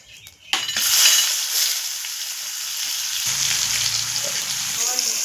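Chopped onion drops into hot oil already tempered with dried red chillies, bay leaf and cumin, bursting into a loud steady sizzle that continues without pause, close up, with faint clinks of utensils.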